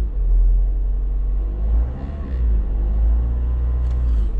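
A car engine runs with a loud, steady low rumble that swells as it is revved, briefly dipping midway, while the alternator charging voltage is tested. No one speaks.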